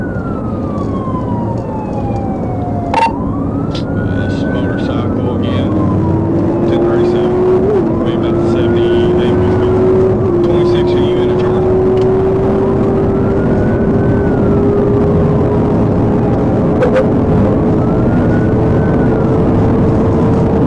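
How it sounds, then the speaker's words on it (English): Police pursuit of a speeding suspect car, with a loud, continuous engine and road roar close by while a wailing siren sweeps up and down over it throughout. "the suspect driving recklessly by, speeding along the shoulder, weaving between cars, and passing vehicles at a dangerously high speed"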